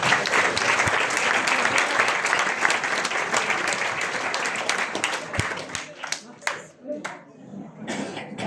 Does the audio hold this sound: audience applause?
yes